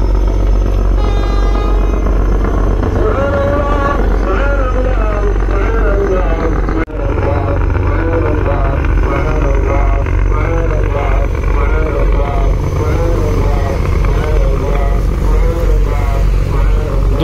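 Heavy, continuous engine roar from Bangladeshi passenger launches, the MV Iyad 1 and Kuakata 2, racing at high speed as they leave the Charmonai gathering. The drone is loud and steady throughout, with a voice talking over it.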